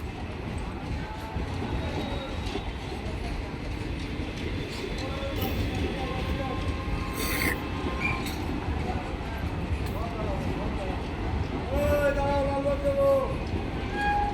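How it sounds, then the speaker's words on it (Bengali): Sealdah–New Jalpaiguri special train pulling into Berhampore Court station, a steady rumble of rolling cars with occasional high wheel squeals and a brief horn-like tone, heard under continuous crowd chatter and someone speaking nearby. "এই মুহূর্তে প্রবেশ করছে train Baharampur court rail station."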